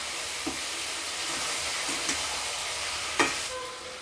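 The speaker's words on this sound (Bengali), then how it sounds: "এরপর আমি কড়ার মধ্যে দিয়ে দিলাম সর্ষে বাটা সর্ষার এইগুলোকে ভালোভাবে নাড়াচাড়া করব আমি সবজিগুলোকে" Vegetables being stirred with mustard paste in a wok for Bengali sukta, giving a steady low sizzle with a few soft scrapes and one sharper clatter near the end, with no talking.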